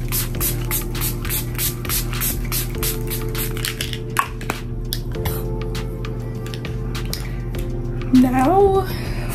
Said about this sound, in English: we're gonna use our setting spray